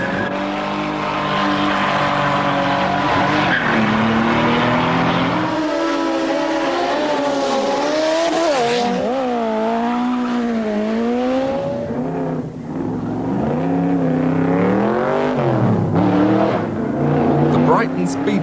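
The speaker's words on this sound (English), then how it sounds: "All sorts of people in all sorts of cars and motorcycles racing down the seafront." Cars race down the seafront at the Brighton Speed Trials, a sprint event, with engines roaring and revving through rising and falling gear changes, loud and close, with a voice talking over the sound.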